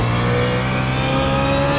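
Race car engine in the iRacing game at Sebring, a loud continuous high-pitched engine whine with steady tonal harmonics, sustained through a brief downshift.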